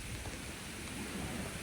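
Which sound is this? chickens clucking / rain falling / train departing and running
rain falling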